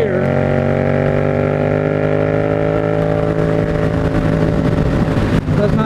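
A Yamaha FZ-07 motorcycle accelerating in sixth gear from highway cruising speed, its engine drone loud and close, pitch rising steadily as it pulls, with wind rush and no talk.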